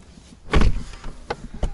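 A Rolls-Royce Cullinan car door closes with a deep, close thud, followed by a couple of softer clicks and knocks, all within about two seconds and with no talking.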